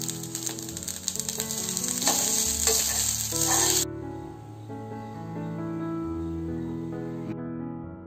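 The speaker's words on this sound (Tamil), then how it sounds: "இதை நல்லா மிக்ஸ் பண்ணிடுங்க" Jeera rice garnished with coriander is mixed in a pan on a stove just switched off, a soft sizzle with scraping stirring strokes under it for the first half, then settling into a quieter even hiss.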